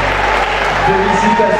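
Audience at the Miss Oise beauty pageant applauds loudly and continuously, dense clapping close up with a speaker's voice carrying faintly beneath it.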